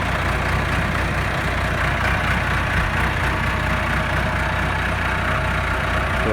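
A KTM quad's engine runs steadily with an aftermarket muffler, a continuous loud low rumble with even broadband exhaust noise and no pauses or voices.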